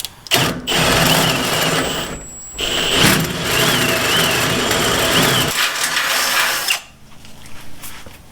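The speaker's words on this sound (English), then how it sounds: "Now we're going to drill left hand because that's definitely smart." A power drill with a 3/4 inch bit bores through sheet metal near spot welds, a loud whining grind that runs for several seconds with brief stops, then falls quiet.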